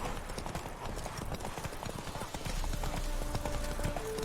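Roach, a horse in the video game The Witcher 3: Wild Hunt, gallops with a fast, steady clip-clop of hooves under a dense, loud game soundscape, with a faint tone entering near the end.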